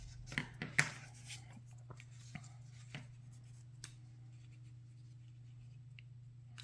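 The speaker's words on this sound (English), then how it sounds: "Trim a little bit off the edge here, like so." Edge of a paper card being trimmed, a few sharp cutting snips and light taps near the start followed by sparse soft clicks over a steady low hum, close and quiet, with no talking.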